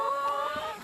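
Commercial brown egg layer hens clucking nearby, a short burst of tonal, sustained clucks with no talk.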